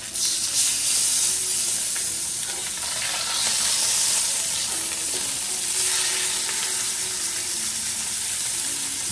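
Pork chops fry in a pan with a loud, steady sizzle and crackle that holds throughout, close up, with no talking.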